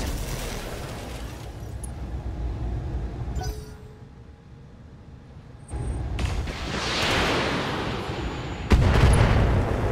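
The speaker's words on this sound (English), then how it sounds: "Firing a full salvo." A BattleTech mech unleashes a full weapons salvo, heavy booming blasts and rumbling explosions rolling in waves with a loud final impact, no talk over it.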